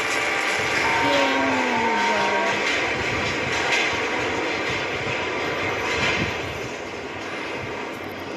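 A train in the horror game Granny 3 rumbles past with a steady, loud mechanical roar and a falling whistle-like tone early on, sustained for several seconds.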